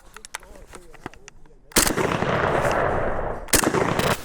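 An IWI Tavor TS12 bullpup 12-gauge shotgun fires Winchester Western 2¾-inch birdshot shells, with two sharp, loud blasts whose echo rings out between them, after some faint handling clicks.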